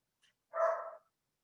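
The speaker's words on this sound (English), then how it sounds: "Is anybody here dog barking besides me?" A single short dog bark, fairly close and moderately loud, preceded by a faint brief yip and followed by silence.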